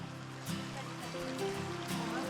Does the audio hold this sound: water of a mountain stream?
yes